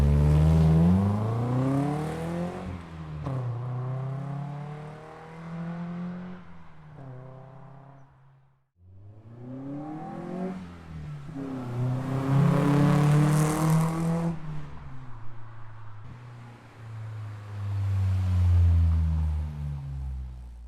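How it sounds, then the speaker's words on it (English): A Nissan 240SX with an aftermarket catback exhaust drives past, engine revving up through the gears with a brief lift-off pause, then pulling hard again, loud and close with a raspy exhaust note. "we'll drive out the school and get some exhaust clips for you guys"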